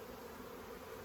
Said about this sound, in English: we're getting a good number of bees in here